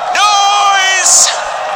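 A loud live esports crowd in a Berlin arena at the PUBG Global Invitational 2018 roars and whoops, with a long sustained bellowing yell rising over the cheering and then a sharp burst of noise.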